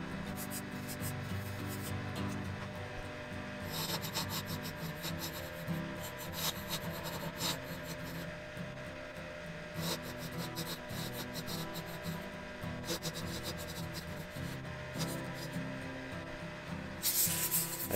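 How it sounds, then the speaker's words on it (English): A fingernail bowl gouge cuts wood on a lathe, making a continuous close rasping, scraping hiss with rough surges and a brighter burst near the end. "I mark everything out again and turn with the fingernail bowl gouge."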